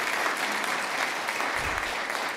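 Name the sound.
audience applause at a meeting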